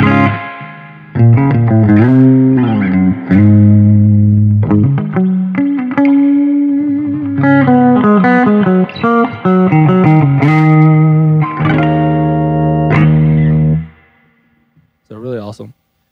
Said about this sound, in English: Just awesome clean, and reverb's not bad either